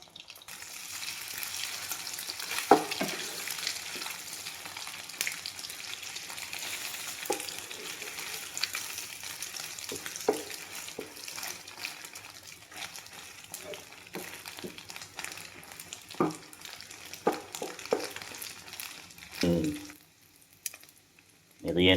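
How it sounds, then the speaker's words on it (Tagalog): Canned beef meatloaf slices fry in a pan with a steady crackling sizzle, interrupted by scraping and stirring clatter, and a few sharper pops and knocks come near the end. "Hiwain natin para magprito na tayo."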